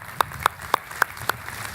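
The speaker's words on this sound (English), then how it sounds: "Let's give them another round of applause for their great work." A handful of distinct, evenly spaced claps ring out at a university commencement ceremony, crisp and fairly close, with no talking over them.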